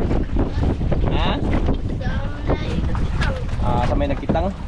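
Steady wind buffeting the microphone, with a boat or water faintly underneath and voices talking throughout.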